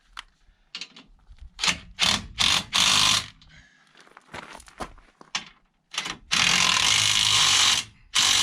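A hand ratchet tightens bolts on the bumper of a 2019 Jeep Wrangler JL, giving bursts of rapid clicking strokes separated by short pauses, with longer sustained runs near the end, close and clear.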